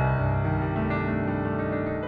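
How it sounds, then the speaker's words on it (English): A melodic minor scale is played as a quick sequence of sustained pitched notes stepping through the scale in about two seconds, heard alone with no talking. "Then we have melodic minor."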